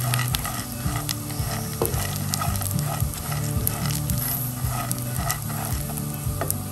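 Almonds and pistachios fry lightly together in a pan, a constant close sizzle broken by regular scraping strokes of a spoon stirring the nuts.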